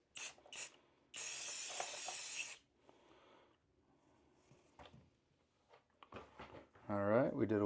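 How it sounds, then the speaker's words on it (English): A short test burst from a Bondo spray can used on a chipped bathtub gives one steady hiss lasting over a second. Quieter handling noises follow, then someone speaks near the end. "we did a little test spray there"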